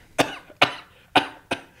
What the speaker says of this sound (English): As he does his cough.